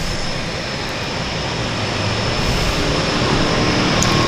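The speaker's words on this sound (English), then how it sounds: "Got another aircraft starting up right there on the right." A turboprop aircraft engine starts up at a downtown harbour airport, a loud continuous whine and roar that builds slightly over a few seconds against a steady wash of engine noise.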